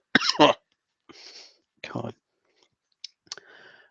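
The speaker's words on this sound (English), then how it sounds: "Pardon all the coughing, by the way." A person with a sore throat coughs in several short, separate bursts, with brief pauses and quieter throat sounds between them.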